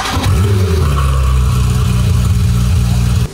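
A car engine with an aftermarket exhaust revs loudly up close in a Dubai garage, a deep rising growl that settles into a steady roaring drone for about three seconds before cutting off abruptly.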